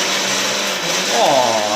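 A kitchen mixer grinder whirs steadily while blending a chutney of coriander, green chilli and ginger. The motor hum is loud and continuous, with the pitch shifting slightly partway through.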